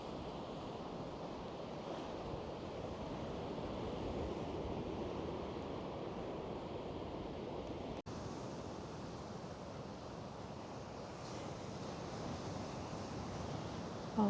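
Sea waves break at Gorleston on Sea in a steady, broad wash of surf heard from a distance, mixed with wind noise and fairly faint throughout.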